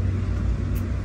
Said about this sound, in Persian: این ماشینه رو میبینین هر شب هر روز میاد اینجا رو دور میزنه